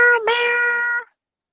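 A child imitates a cat with a single drawn-out vocal meow, close and clear, with a short break near the start before trailing off into silence.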